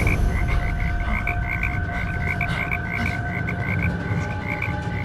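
A frog croaks in a steady, rapid rhythm, its repeated pulses forming a continuous chorus over a low, rumbling background with no talking.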